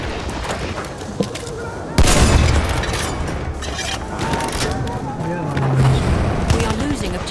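Battlefield 1 Operations gunfire at St Quentin Scar, Amiens: scattered shots and a sharp loud burst, then ongoing battle noise with booms and rattling, with voices talking throughout.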